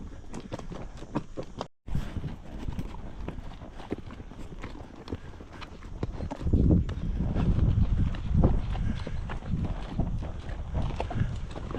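Horse hooves clip-clop steadily on a stony trail in the Serra de Tramuntana hills of Mallorca, several horses walking in close irregular rhythm, the steps growing louder and denser partway through.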